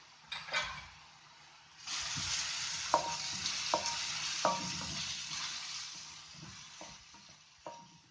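Onions, cashews and green chilies frying in a pan, a steady sizzle with spoon scrapes and clinks as they are stirred, close by, no talking.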